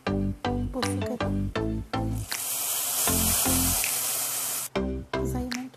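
Garlic dropped into hot molokhia, setting off a loud, sustained sizzle and hiss for about two seconds between rhythmic thumping sounds, close up.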